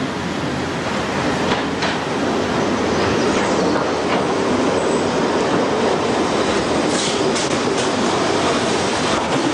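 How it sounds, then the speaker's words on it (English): A train enters a station platform, producing a steady, loud rumble of wheels and carriages with faint brake squeals and rattles throughout. No voices are heard. "as the train enters the platform"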